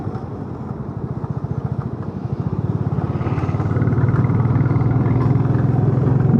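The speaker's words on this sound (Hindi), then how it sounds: "ये रहा हैवी ड्राइवर, इसको चलाने के लिए दी बाइक, चला रहा है दबा के" A motorcycle on a road trip is ridden hard, its engine thumping in a fast regular beat that climbs into a louder, sustained drone as it accelerates nearby.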